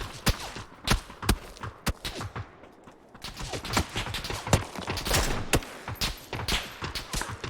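Gunfire in the video game PUBG: sharp single shots and short bursts that crack out at irregular intervals over several seconds, some loud and close, with quieter shots and background noise in the gaps.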